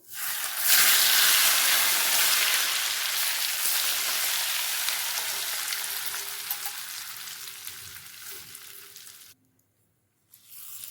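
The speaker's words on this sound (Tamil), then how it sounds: "மாங்காயை நல்லா கலந்து விட்டுக்கலாம்." Oil-coated raw mango pieces are stirred and tossed for a mango pickle, producing a dense, wet, continuous hiss and slosh that runs for several seconds before stopping abruptly near the end.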